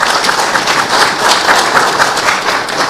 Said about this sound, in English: May we accord the CSs a hearty round of applause.